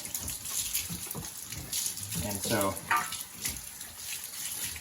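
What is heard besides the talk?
water running to back flush milking equipment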